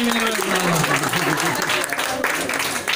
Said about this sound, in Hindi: जोरदार तालियां मैम के लिए